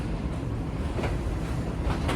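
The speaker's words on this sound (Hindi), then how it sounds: "ट्रेन हमारी अप्रोच बना रही है फैसलाबाद रेलवे स्टेशन के प्लेटफॉर्म नंबर 1 पर" Shalimar Express train approaching platform 1 at Faisalabad railway station, a steady low rumble of rolling carriages with faint rail clatter, continuous and fairly loud.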